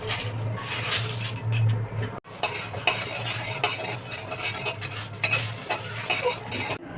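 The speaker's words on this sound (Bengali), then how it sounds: "আমের ওই কোড়া আচার বানানোর জন্য একটা মশলা বানিয়ে নেব। আমি ভেজে নেব।" Spices fried in a pan for raw mango pickle masala: loud, close sizzling with repeated scraping and clinking of a metal spoon stirring, with a brief pause partway through.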